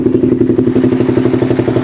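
A motorcycle engine idles steadily at close range during an oil flush with fresh engine oil, giving off a continuous low throbbing chug with fast, even rhythmic pulses and a light mechanical clatter.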